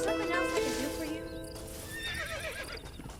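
Horse in the Red Dead Redemption video game, stopped in a fire, gives a loud protesting neigh and whinny with a few hoof clops beneath, all fairly close.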